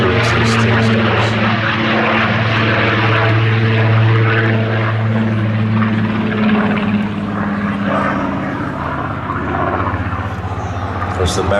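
A Supermarine Spitfire PR.XIX with a Rolls-Royce Griffon piston engine makes a flypast at an air festival, its loud propeller drone holding steady and close throughout while a commentator talks over it.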